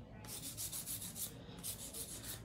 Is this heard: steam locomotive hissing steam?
no